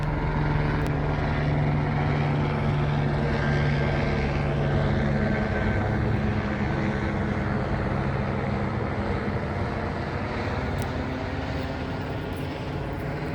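A helicopter circles overhead, its steady droning engine and rotor hum loud and continuous with no talk, a low rumbling tone holding without a break.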